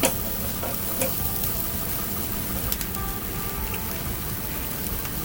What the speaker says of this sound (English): In the same pan, I'm gonna add onion and fry until translucent